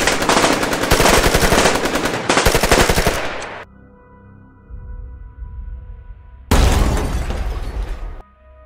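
Loud, rapid bursts of automatic gunfire in a Daredevil stop-motion fight scene, two sustained volleys of dense shots separated by a lull with ringing tones, then a final burst, no talking.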